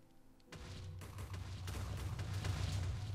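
A block of TNT in Minecraft, set off by a Flame-enchanted arrow, detonates with a sudden low boom that swells into a sustained rumbling roar, its crackling blast debris growing louder toward the end.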